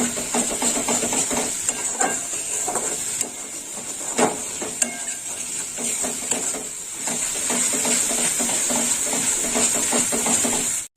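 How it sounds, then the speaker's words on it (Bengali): Drumstick-stem curry being stirred in a pan over low heat, with a soft continuous sizzle under scattered scraping and clinking of a spatula against the pan, steady and close, with no talk. "এইভাবে নেড়ে চেড়ে নিতে হবে। আর খুব বেশি আঁচ দিলে হবে না, একটু ধিমে আঁচে রান্নাটা করতে হবে।"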